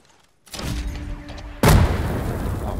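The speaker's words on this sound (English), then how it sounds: "why did my grenade blew up so early?" A grenade in a free online shooter game goes off in a single sharp, heavy boom near the end, following a stretch of rumbling battle noise.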